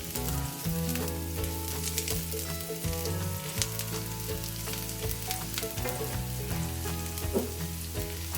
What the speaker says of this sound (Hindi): थोड़ा सा फ्राई करेंगे लहसुन को।